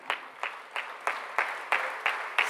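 A round of applause at a college inauguration for first-year BBA, B.Com and B.Sc students comes as sparse, evenly spaced claps, about eight distinct hits at a regular rhythm, fairly quiet and close.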